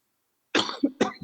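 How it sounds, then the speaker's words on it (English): A couple of sharp, close coughs in quick succession breaking the silence, followed by a brief throaty sound. "Sorry for my cough."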